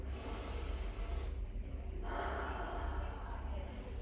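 A deep, steady breath drawn in and released during a yoga side stretch, airy and close, filling the whole stretch with no talk over it.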